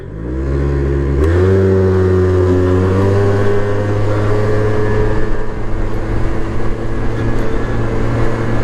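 A Yamaha BWS 100 scooter with a Malossi CVT drive, VL14 reed valve and Motoforce ignition accelerates hard from a standstill. The engine drone is loud and close, rising quickly in pitch and then holding a steady high whine.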